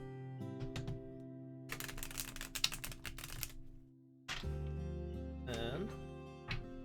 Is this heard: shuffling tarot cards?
yes